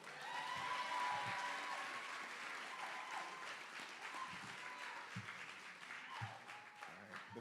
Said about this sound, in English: let's clap it up one more time for the Corps.